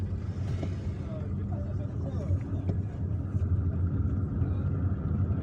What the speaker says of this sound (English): lot of oncoming traffic.